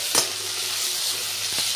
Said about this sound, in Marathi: आपल्याला मस्त छान परतून घ्यायचा आहे म्हणजे तो शिजला जाईल आता छानपैकी.